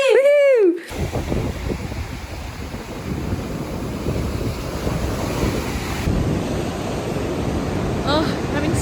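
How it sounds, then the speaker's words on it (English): Strong wind buffets the microphone outdoors, a steady loud roaring rush that fills the clip after a brief opening sound, with no clear speech over it. "I have no idea if you'll be able to hear me over the wind"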